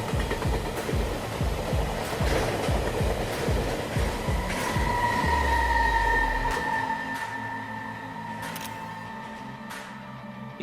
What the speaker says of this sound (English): It shows a train engineer effortlessly plowing through massive snowbanks, with the snow flying everywhere.